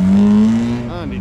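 A Vesta 1.3 with go-faster stripes pulls away from a car and bike night at a pub, its engine note rising in a loud, close rev and then easing off as it moves away.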